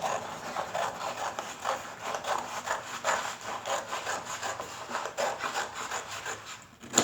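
Hard cardboard being cut for a garment pattern, a steady scraping, sawing rasp of repeated close strokes that runs through the whole stretch with no talking.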